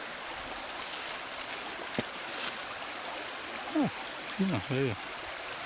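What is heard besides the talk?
stream water flowing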